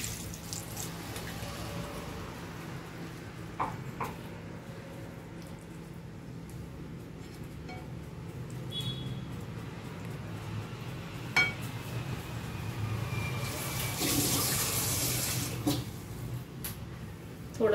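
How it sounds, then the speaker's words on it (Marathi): Water is poured into a mixed vegetable curry cooking with coconut, garlic and coriander, giving a soft running splash with occasional clinks of utensils against the pot in a quiet kitchen. "हा त्याच्यामध्ये आपण पाणी वतायचं."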